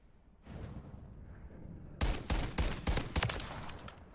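Shotgun blasts in a first-person shooter video game hit sharply and loudly in a rapid run of heavy reports after a quieter stretch of rumble, each shot close and punchy.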